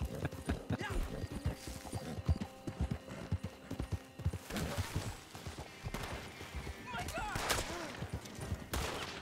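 Horse hooves clip-clop in Red Dead Redemption 2, a steady run of hoofbeats mixed with bursts of gunfire, a whinny and other game noise.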